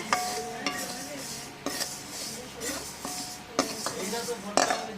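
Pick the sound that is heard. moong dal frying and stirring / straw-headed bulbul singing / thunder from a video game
moong dal frying and stirring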